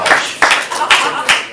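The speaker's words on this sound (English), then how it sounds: "Give yourselves a round of applause" Audience at a ComedySportz improv comedy show giving four quick bursts of clapping, close and lively, with no talk over it.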